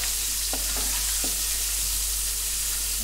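Curry leaves fry in oil in a pan with a constant soft sizzle. A few light stirring clicks come near the start.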